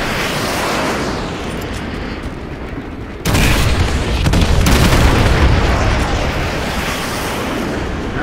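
Artillery strike explosions in Call of Duty: Modern Warfare 2, a heavy rumbling barrage that erupts into a sudden loud, deep boom, then sustained roaring blasts and crackling debris under continuous distant gunfire.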